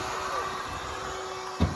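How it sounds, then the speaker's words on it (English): Vacuum cleaner running inside a roofless Ford Escape while sucking up broken glass, a steady close whine and rush that holds evenly, ending in a brief rattle. "Vacuum out a metric buttload of glass."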